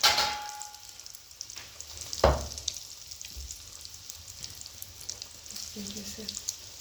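Potato bites fry in hot oil, giving a steady sizzling hiss broken by a metal clang and light stirring, with a brief voice near the end.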